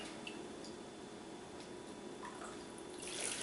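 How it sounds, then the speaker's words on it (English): Hot homemade chicken stock is ladled into a container in a kitchen, with faint, soft liquid drips and small splashes against a quiet background, no talking. "I'm gonna use a ladle and just pour it into here."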